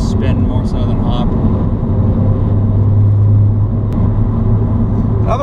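A Ford Focus ST engine accelerating hard in first and second gear, a loud continuous rumble with a rising tone in the cabin while people talk over it.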